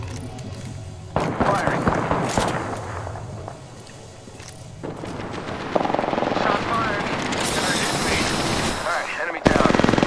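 Bursts of automatic weapon fire in the Apex Legends battle royale game, rapid loud volleys mixed with helicopter-like engine drone, footsteps and other game effects, with players talking over it.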